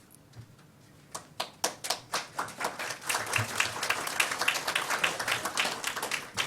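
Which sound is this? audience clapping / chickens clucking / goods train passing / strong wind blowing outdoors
audience clapping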